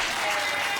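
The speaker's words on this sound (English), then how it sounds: "The crowd tries to will Kayos to his feet, trying to cheer him on here" A wrestling crowd cheers and applauds as a downed wrestler is urged back to his feet, a dense, steady roar of voices and clapping filling the whole brief moment.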